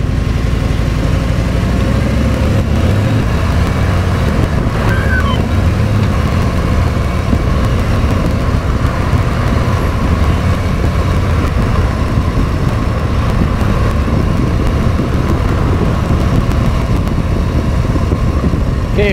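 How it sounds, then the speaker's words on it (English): A Harley Davidson Tri Glide M8 with a Rekluse clutch pulls away from a stop in traffic, a loud continuous engine drone heard close from the rider's seat, with wind noise and no clear talking. "Like right now, I'm just gonna give her gas and take off."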